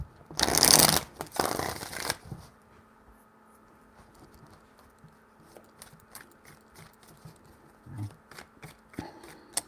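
Tarot cards being shuffled by hand in a quick, close, crisp burst lasting about two seconds, followed by quieter handling and soft taps of the cards.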